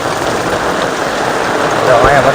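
Heavy monsoon rain in Gujarat pours in a loud, steady hiss over waterlogged ground, with a brief voice-like sound near the end.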